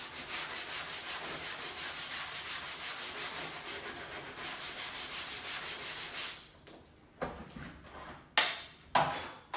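Hand sanding of a wooden stair scroll with 150 grit sandpaper makes a quiet, rhythmic scratching of regular back-and-forth strokes for about six seconds, followed by a few separate, louder rubbing swipes near the end.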